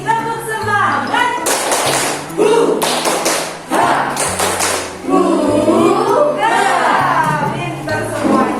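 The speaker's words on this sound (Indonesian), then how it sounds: "Yuk, kita tepuk semangat." Children in an Indonesian classroom perform a rhythmic spirit clap led by their teacher, with a steady pattern of clap bursts and short pauses and voices chanting and calling along between and over the claps.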